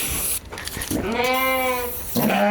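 Sheep bleating during shearing, a sustained wavering harmonic bleat after some handling noise, close and loud, with a second shorter bleat starting at the end.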